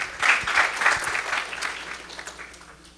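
An audience at a devotional gathering claps in a dense burst that is loud at first and then slowly fades, heard alone without talk.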